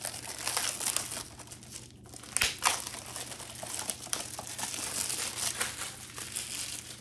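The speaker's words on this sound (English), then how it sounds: "Listen for the sound of crinkling plastic." Plastic shrink wrap on a 4K disc package crinkles and tears as it is pulled open up close, a steady crackling texture with a few sharper rips along the way, with no voices.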